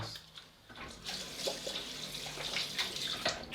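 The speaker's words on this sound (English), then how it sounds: "wash my hands" Running tap water splashing over hands being washed at a sink, a steady close hiss with irregular splatters and brief rubbing bursts throughout.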